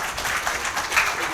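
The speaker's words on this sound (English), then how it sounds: "please help me to congratulate the panel, the panelists here, with a round of applause" Audience at a housing finance and mortgage conference applauding the panelists after a panel session, a brief, steady burst of clapping that sounds like a moderately sized room.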